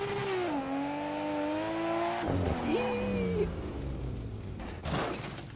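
A car roars in a racing video game, its engine tone climbing and shifting, then a sudden change with tire squeal and a thump as it crashes. The sound stays close and loud, with no talk.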